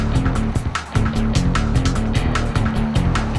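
A 2011 Maruti SX4 diesel engine revs hard toward 4,500 RPM with a strong droning hum and rising pitch, loud and close, with a brief dip before pulling again.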